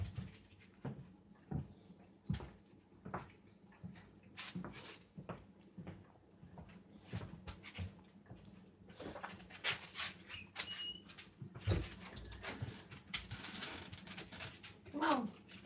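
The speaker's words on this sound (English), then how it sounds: "Hold on, I gotta let dogs in" Dogs let in through a door at home, with scattered paw taps, clicks and small whimpers over a faint background, no talk.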